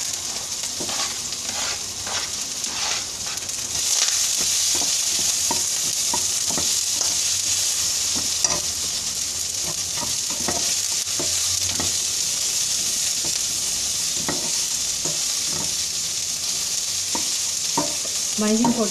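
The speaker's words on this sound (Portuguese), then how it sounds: "eu vou colocar todos os ingredientes para serem refogados todos de uma vez só" Seasonal garden vegetables sizzle steadily as they sauté together in oil in a pan, with a constant close frying hiss broken by frequent clinks and scrapes of stirring, and no talking.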